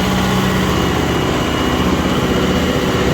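A tractor engine drives a rotavator through soil with a loud, constant, close-up rumbling drone and no break.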